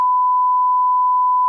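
A countdown timer gives one steady, clean electronic beep that holds unbroken for about a second and a half, loud and alone with no voices.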